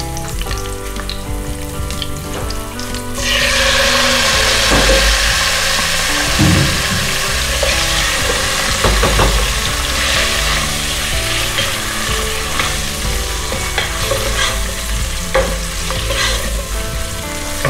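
Mutton and garlic fry loudly in a hot pan, a strong sizzle rising sharply after a few seconds as the meat goes in, with repeated stirring and clattering of the spoon close by.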